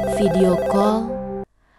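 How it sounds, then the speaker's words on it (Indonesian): A mobile phone ringtone plays a bright, melodic electronic tune, loud and close, then cuts off abruptly into near silence. "Jam 2 pagi, HP-nya berdering."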